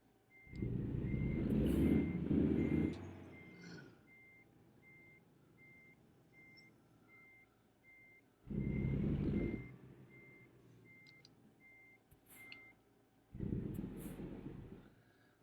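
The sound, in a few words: truck reversing beeps in a driving video game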